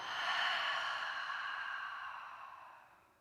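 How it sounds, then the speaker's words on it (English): A single long, soft exhale through an open mouth during a restorative yoga breathing exercise, close and breathy, fading gradually over about three seconds with no talk. "And then open your mouth and exhale."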